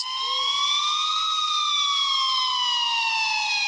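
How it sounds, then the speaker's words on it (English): A wailing police siren rises and slowly falls in pitch, steady and clear, sounding somewhat distant with no other sounds around it. "I finally heard sirens in the distance"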